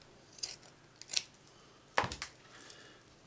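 Scissors cut through white cloth in three close, crisp snips, the last a louder double crunch, with quiet pauses between.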